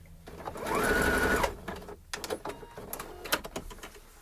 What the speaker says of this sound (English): I'm going to sew all the holes I find